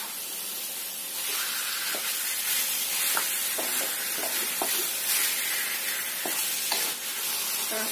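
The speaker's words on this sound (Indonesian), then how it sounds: "kita masukkan ayamnya yang sudah kita cuci bersih. Aduk lagi sampai tercampur rata bumbunya." Chicken stirred into cooked spice paste in a hot pan, a dense, bright sizzle that holds steady throughout, broken by scattered close scrapes and knocks of the spoon against the pan, with no talk.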